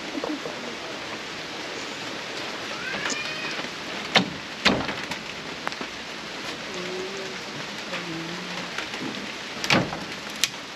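Rain falls steadily at a house, a soft continuous patter with a few louder drips and knocks scattered through it and no talking.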